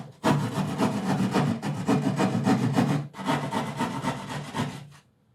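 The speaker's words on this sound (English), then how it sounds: "when you're sawing a hole out like this" A handsaw cutting a hole in drywall, close rhythmic rasping strokes in three bursts with short pauses between, ending in quiet.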